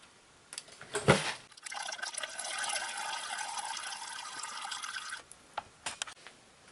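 Transmission fluid drains from a 2011 Chevy Volt's 4ET50 transaxle into a bucket, a soft steady pour lasting a few seconds, framed by a brief splash before it and a few drips and clinks after.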